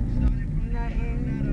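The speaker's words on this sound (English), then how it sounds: "right here on driving down Broad Street" A car drives along Broad Street, heard from inside as a steady low engine and road rumble with wind buffeting. Voices murmur faintly over the drone.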